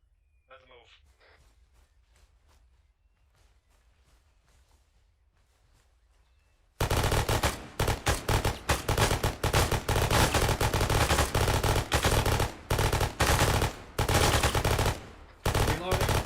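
Sustained bursts of rapid video game gunfire fire at windows in a team tactical match, loud and dense after a quiet opening with faint voices and footsteps.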